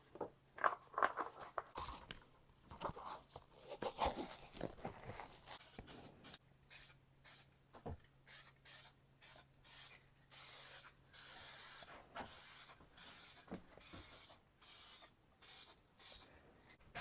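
An aerosol rattle can sprays primer onto a guitar body in a long series of short, loud, evenly spaced hissing bursts, following quieter handling and rattling sounds at the start, with no talk.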